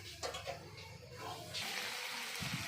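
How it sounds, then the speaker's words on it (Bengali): Hot water poured into a pan of cooking chicken curry with potatoes, a steady splashing, hissing pour that swells and continues for a few seconds, close and moderately loud. "গরম জল দিয়ে দিচ্ছি"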